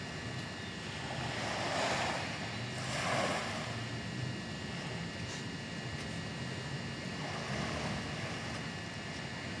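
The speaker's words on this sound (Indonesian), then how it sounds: "Syahdu banget ya dengerin suara ombak-ombak tipis gini" Soft sea waves washing in and out in slow swells on the Bali Strait, recorded from a DJI Mavic Pro drone, with a steady wind rumble and a faint engine-like hum underneath.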